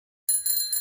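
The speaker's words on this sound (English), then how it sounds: "bicycle," A bicycle bell rings alone after a brief silence, its bright metallic trill sustained with a slight pulsing through the rest of the moment.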